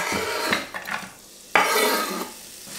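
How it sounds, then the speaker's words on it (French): Onions and garlic hitting preheated olive oil in a pan, a bright sizzle that jumps up after a pause, with scraping and clinking of a utensil stirring between bursts. "Et j'y rajoute mes oignons et de l'ail."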